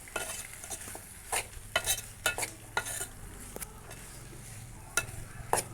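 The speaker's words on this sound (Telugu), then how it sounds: "బోటి ముక్కలు ఇదంతా మంచిగా కలుపుకొని మగ్గించుకోవాలి." Tripe curry pieces get stirred in a pan, with irregular scraping and clinking of a spoon against metal over a soft, quiet sizzle, the strokes coming in scattered bursts.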